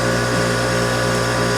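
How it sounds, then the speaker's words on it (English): A Stihl pressure washer pump runs close by, producing a continuous buzzing whine that stays level and unbroken for the brief moment, heard alone without speech. "turn on the pump and see if that goes a lot further"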